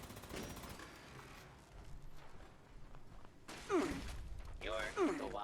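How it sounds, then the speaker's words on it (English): Rapid-fire energy weapon bursts from a Gatling laser in the game Fallout 76, fast repeating shots with whooshing sweeps and mechanical whirr, under a voice talking throughout. "Okay, Gatling laser that. I didn't mean to go Gatling laser, but whatever works."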